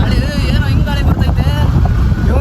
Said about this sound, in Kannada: ಇಲ್ಲಿಂದ ಫುಲ್ಲು ಗಾಳಿ, ಏನೋ ಹಿಂಗೆ ಗಾಳಿ ಬರ್ತೈತೆ.